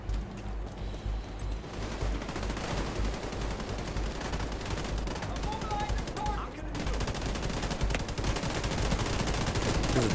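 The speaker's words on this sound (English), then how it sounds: "There's a turret in the fucking concrete pad." Rapid automatic gunfire from a turret in The Division 2 clatters on continuously and loudly, with dense bursts of shots over a constant low game rumble.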